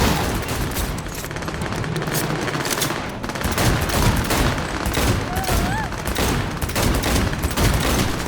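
Loud, sustained automatic gunfire in the video game Cyberpunk 2077, dense overlapping shots and blasts filling the whole stretch, with faint tonal game effects mixed in.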